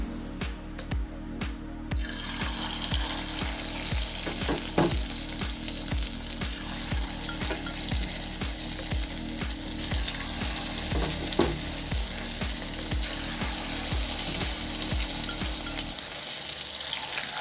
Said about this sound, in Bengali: ভালো করে গরম হয়ে গেছে এবার আমি এক এক করে পকোড়াগুলো ছেড়ে দেবো